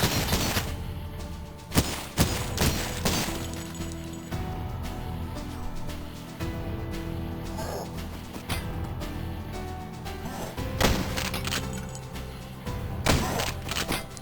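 Gunfire in the game Cultic, a scattered series of sharp shots and thuds over a busy game backdrop, a few louder cracks standing out near the start and the end.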